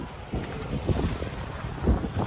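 Gusty wind buffets the microphone in low rumbling bursts, with a constant background hiss and no talking.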